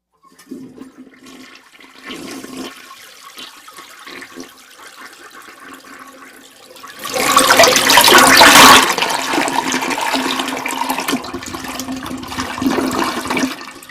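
A toilet flush roars up loudly and rushes for about a second and a half, then settles into a steady running refill of water that continues to the end, preceded by quieter faint ambient sounds.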